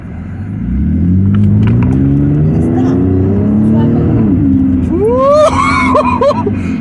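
A Cadillac CTS coupe pulls through traffic with a loud, steady engine rumble that rises in pitch as it accelerates. Voices talk over the engine near the end.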